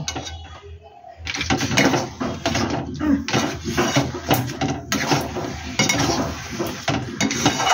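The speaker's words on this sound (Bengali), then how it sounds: "এবার আমি 5 ফোড়ন গুঁড়ো করাটা এর মধ্যে মিশিয়ে দেব।" Ground five-spice powder is stirred into a sour jujube pickle, giving close, busy scraping and clinking of a spoon against the pan with a faint sizzle, almost continuous after a brief quiet start.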